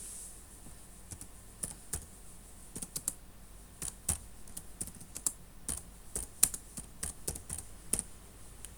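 Computer keyboard typing nearby, irregular bursts of soft key clicks with short pauses between them, quiet and alone.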